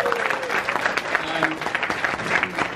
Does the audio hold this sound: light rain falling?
no